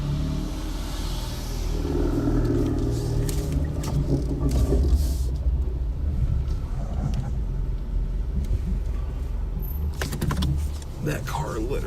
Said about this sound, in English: That car literally sounded like a toilet flushing,